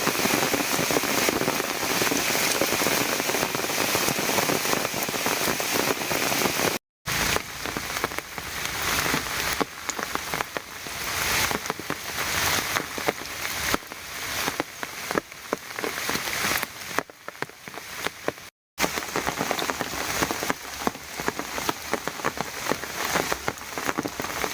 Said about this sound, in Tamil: குமரி மாவட்டத்தில் தென்மேற்கு பருவமழை தீவிரமடைந்து வருவதால் கடந்த சில நாட்களாக கனமழை பெய்து வருகிறது.